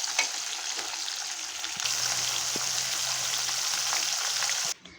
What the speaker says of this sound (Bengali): মাছগুলো একদম কড়া করে ভেজে নেব